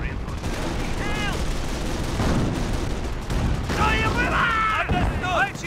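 Battle gunfire in the WWII strategy game Company of Heroes, with rattling small-arms bursts and muffled booms under shouted unit voices, mid-loud and steady throughout.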